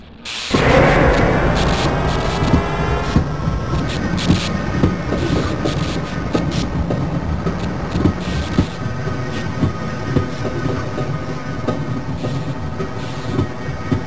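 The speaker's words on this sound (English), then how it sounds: "Once engaged, move forward or backward to increase or decrease the speed of the train." A train in Half-Life: Blue Shift lurches into motion with a loud heavy start, then rumbles steadily with metallic clanks, rattling and clickety-clack under a sustained mechanical drone.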